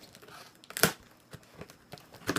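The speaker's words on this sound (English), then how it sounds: "I'm going to open up with a pair of scissors." Scissors cut open a cardboard shipping box holding a large pipe tobacco and cigar order, giving quiet scattered crinkling and tearing sounds with one sharper rip, and no talking.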